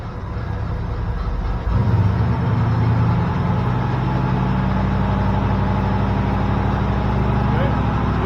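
A car with a TH350 automatic transmission being driven, its engine droning steadily and close by with a noticeable shift in tone as a gear changes; someone talks over it.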